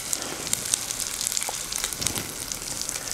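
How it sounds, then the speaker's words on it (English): Line fish fillets sizzling in a hot frying pan, a steady crackling hiss with scattered sharp pops, close and continuous without talking. "You hear it sizzling."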